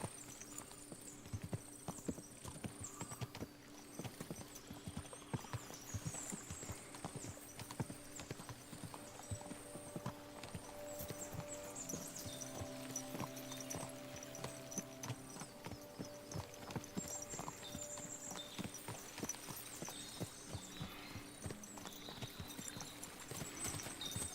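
Steady clip-clop of horse hooves from Pebbles, a poor-quality horse ridden in the video game Kingdom Come Deliverance 2, a continuous trotting rhythm beside a stream and game music, with no talking.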